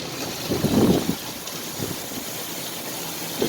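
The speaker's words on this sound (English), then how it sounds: "It is blowing hard, man." Strong wind gusting during an Oklahoma storm, low buffeting rumble against the microphone in a couple of heavy bursts over a steady rushing background, heard outdoors beside an RV.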